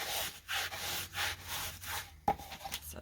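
Crumpled foil is rubbed back and forth over wet green paint to add an aged texture, making close, rhythmic scratchy rubbing strokes that stop briefly and then resume with a sharper scuff.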